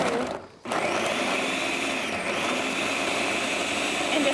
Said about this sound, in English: so we're just gonna pulse this into